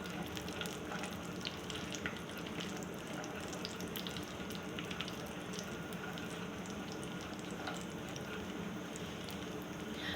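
Dry fruits fry in hot oil in a pan, a dense, steady sizzle and crackle that runs unbroken and close, with no voices over it.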